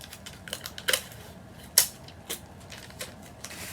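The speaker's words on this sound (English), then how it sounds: "And you want to tape. So tape it right here." Plastic wrap being taped over a canvas to pack it for shipping: a few short, sharp crackling strips of tape, irregular and fairly close, with a light rustle in between.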